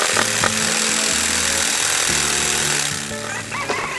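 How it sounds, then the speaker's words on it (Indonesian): A big tree is being cut with a fast-moving saw in a cartoon, heard as a loud, harsh, continuous buzzing rasp with rapid pulsing that holds steady before easing slightly near the end. "gergaji itu sedang bergerak dengan cepat"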